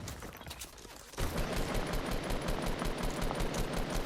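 Rifle gunfire rattles out in rapid automatic bursts in the video game Fortnite, original season 2. After a quieter second of background sound, a dense, loud stream of shots continues to the end, close and steady.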